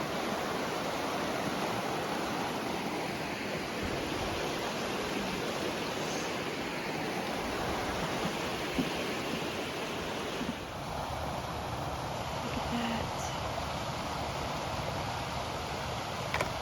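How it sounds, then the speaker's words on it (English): A waterfall pours down into a river along a hiking trail, a steady loud broadband rush that holds evenly throughout with no voices over it. "look at that awesome waterfall down there, going down into that river."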